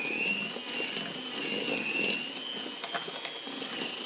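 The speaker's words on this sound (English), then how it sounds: "So, I'm going to whisk this. It's going to be loud, so bear with me." A small electric hand mixer whirs steadily while whisking pink peppermint bath salts, a high continuous motor whine with slight wavering pitch and faint gritty rattles, heard alone for about four seconds.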